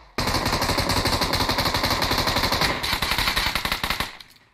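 Rapid automatic gunfire from PUBG Mobile, a loud, dense stream of shots sustained for about four seconds before cutting off, with no talk over it.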